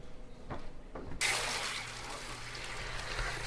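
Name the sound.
tap water rinsing tomatoes in a colander at the sink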